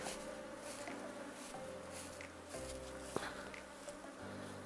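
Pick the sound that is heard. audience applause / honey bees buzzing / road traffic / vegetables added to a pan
honey bees buzzing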